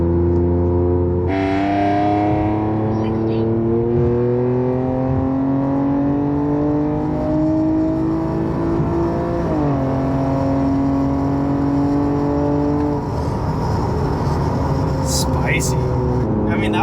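Nissan Z fitted with an AMS cold air intake and bolt-ons accelerates hard in sport mode through paddle-shifted gears, its loud exhaust note climbing steadily in pitch, dipping at a shift, then rising again, close and continuous.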